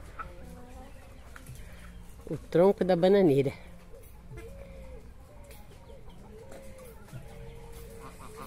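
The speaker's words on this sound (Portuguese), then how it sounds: "Esses aqui são os frangos" Farm chickens cluck while pecking at chopped banana leaves and trunk. One loud, close burst of clucking stands out over fainter scattered clucks, and a person talks throughout.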